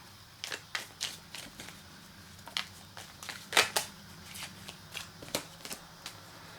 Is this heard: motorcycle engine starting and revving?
no